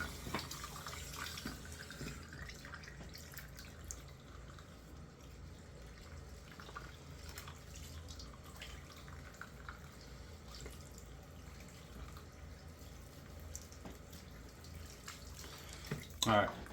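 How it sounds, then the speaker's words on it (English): A tap runs for a warm water rinse after a wet shave, a faint, steady splashing stream that continues low throughout, with a brief louder stir near the end. "Alright, warm water rinse."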